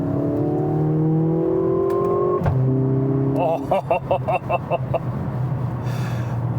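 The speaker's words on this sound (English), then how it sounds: "you can flick a switch, put that pedal down, and boost builds. And it makes such an amazing sound out back too." A 2021 Mercedes-AMG GLA 45 hot hatch accelerates hard, its engine note climbing steadily as boost builds, then a gear change and a rapid series of sharp exhaust crackles and pops, loud and close inside the car.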